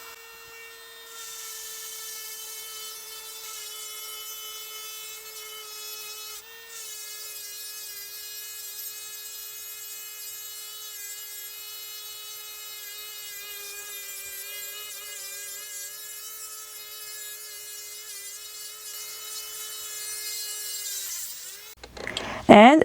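A rotary tool drills a hole through a seashell for jewelry, a steady high whine with tonal harmonics that wavers slightly as pressure changes, holding close and constant for about twenty seconds before a brief clatter at the end.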